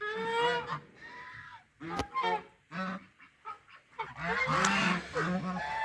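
A flock of geese honks in the snow, several loud, nasal calls overlapping close by, with a sharp click midway and a busier chorus of honks near the end.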